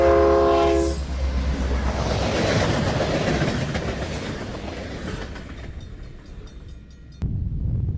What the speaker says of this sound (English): The Union Pacific SD70M and Jeep 40-2 have only 3 grain cars in tow